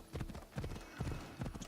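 A horse galloping in Assassin's Creed Odyssey, hooves clip-clopping in a steady rhythmic beat, close and moderately loud.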